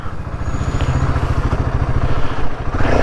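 A Royal Enfield Himalayan 450 motorcycle engine runs while being ridden, with a steady close thumping pulse and some clatter and wind noise over it.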